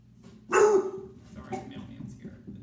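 A household dog lets out one sharp, loud bark at the arriving mailman, followed by softer grumbling yips, all indoors with a person speaking nearby.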